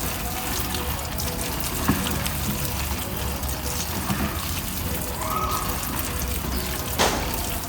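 Water mixed with decomposer is poured evenly over organic waste in a homemade composter, giving a steady, continuous splashing pour with a few small knocks.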